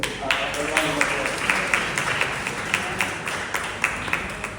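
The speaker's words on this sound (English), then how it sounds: "Give Miss Uzel a round of applause." A round of applause fills a room at an annual general meeting of a council on ageing, steady clapping from a crowd with sharp individual claps standing out in a regular rhythm throughout.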